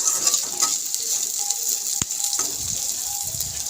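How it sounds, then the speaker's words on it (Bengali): Onions frying with a little salt in a pan for an egg and potato mash give off a steady, fairly quiet sizzle that runs unbroken from start to finish, with no voices. "নুন দিয়ে পেঁয়াজটাকে ভালো করে ভাজা করে নেব"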